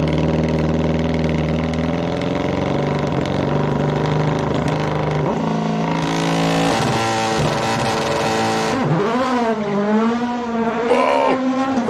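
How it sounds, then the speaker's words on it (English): Petter Solberg's race car at the Simola hillclimb revs hard off the launch and sweeps up through rising gears, the loud close engine note climbing and falling as it shifts, with no voices over it. "The launch on this car is fantastic"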